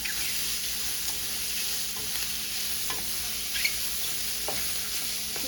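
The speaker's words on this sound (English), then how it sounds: "We're not really going for caramelization on the onions, just a little bit of sweating" Onions sweating in a pan for a mushroom and wild rice risotto, a loud continuous sizzle and hiss with occasional light scrapes and clicks of a spoon stirring.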